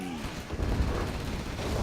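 Nuke cannon firing in Command & Conquer Generals Zero Hour during a tank battle: a sustained, loud rumbling barrage of booms and explosions that stays dense throughout, with no talking over it.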